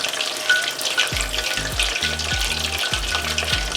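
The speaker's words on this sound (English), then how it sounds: "When I'm finished deep frying, I'll be doing the sweet and sour sauce." Red snapper deep frying in hot oil, a steady bright sizzle with bursts of bubbling, and a few low thuds partway through.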